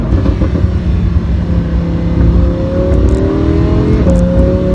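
A Lamborghini Huracan driving and accelerating, heard from inside: a loud, steady engine drone whose rising pitch climbs through gears, with a brief shift near the end.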